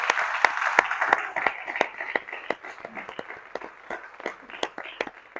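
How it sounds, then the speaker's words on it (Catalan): An audience at a book presentation applauds a speaker, the clapping strong at first and then thinning into scattered individual claps over several seconds. "Un aplaudiment per ell, no?"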